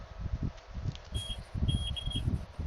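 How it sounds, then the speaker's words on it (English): Intermittent electronic beeping sits in the background of a call participant's line, a few short high-pitched tones repeating over low muffled noise and rustle. "Is the noise coming from your background or mine? The beeping sound."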